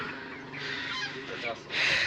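Hens and a rooster cluck and squawk nearby in a busy, continuous chatter, ending with a louder squawk.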